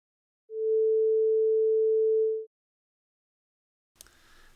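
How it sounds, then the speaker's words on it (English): A pure 440 Hz sine tone at middle A holds steady for about two seconds, clean and even, then cuts off into silence before a faint rustle at the end. "That is middle A. That's 440 hertz."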